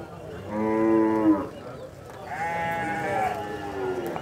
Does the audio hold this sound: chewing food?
no